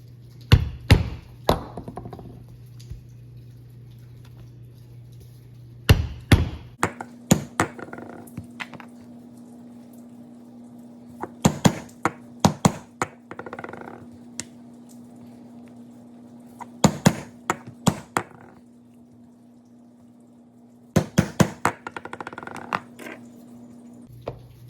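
A mallet strikes a stitching chisel to punch holes in a leather belt. The sharp, close knocks come in quick clusters separated by pauses, over a low steady hum.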